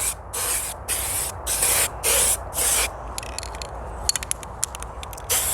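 Spray paint hissing in a light dusting coat onto a BMW wheel during a DIY refurb: several short, loud bursts of aerosol spray separated by brief gaps, then quieter rattles and clicks.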